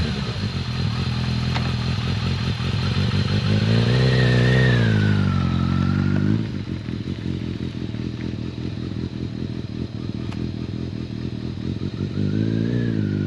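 A Kawasaki ZRX1200R motorcycle rides along with a steady engine drone, its pitch rising and falling as it revs and shifts gears, loud and close throughout with wind noise.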